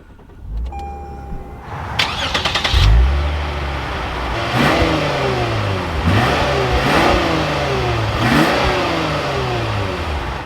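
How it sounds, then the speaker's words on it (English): A 2024 Lexus IS350 F Sport with a naturally aspirated V6 chimes and cranks, then fires up with a loud flare of revs and settles into a steady idle, with a few blips of the throttle after. "let's start this up and take a listen to that NA V6."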